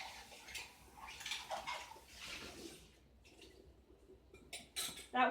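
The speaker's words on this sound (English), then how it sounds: "Immediately rinse out my bowl or my container" Plastic bowl rinsed out under running water after lye was mixed in, with splashing, clattering knocks and a sharp rattle near the end, close by and no talking.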